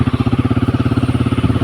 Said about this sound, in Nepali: यो बाइक हो